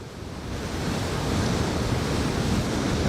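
Strong headwind roaring across the microphone while riding a bike at 28 mph, a steady, loud broadband rush that swells slightly and then holds constant throughout, with no talking.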